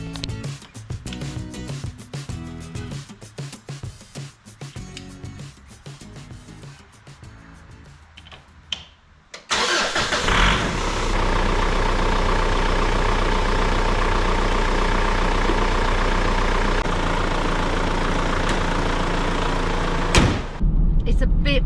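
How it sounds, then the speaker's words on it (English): After talk and some clatter, a car with a flat battery, jump-started from a Voltex power pack, suddenly roars into life and settles into a steady, loud, rumbling idle that runs on almost unbroken. "I bought this Voltex and it's supposed to be able to jump start a car."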